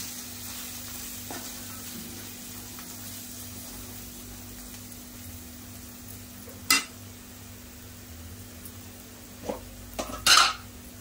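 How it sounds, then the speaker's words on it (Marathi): Homemade Koli masala sautéing in oil in a pan for squid rings, a soft continuous sizzle with a sharp scraping stir midway and a few louder stirring clatters near the end, no talking. "घरगुती कोळी मसाला, तेलावरती पहिले चांगला परतून घ्यायचा."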